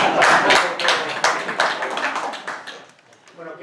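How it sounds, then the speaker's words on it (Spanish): A conference audience breaks into applause, many hands clapping densely and unevenly close by. The clapping thins out briefly before picking up again. "Hubiera merecido un primer aplauso."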